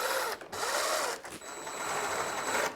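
A power tool driving bolts to fasten a snowblower cover back down, a steady mechanical whirring hum that cuts out briefly twice and then resumes, fairly close and with no talk heard.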